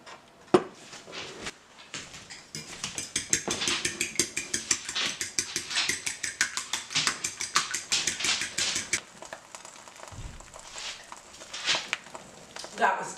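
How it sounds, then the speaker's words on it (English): Quail eggs being scrambled in a pan, heard as a steady run of quick scraping, tapping utensil strokes against the pan, close and fairly loud, continuing for most of the stretch with brief pauses. "I'm going to scramble this up because I've never had quail eggs before"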